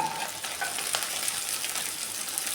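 Capsicum added to onions frying in a pan for chilli chicken, a steady close sizzle with faint stirring scrapes throughout.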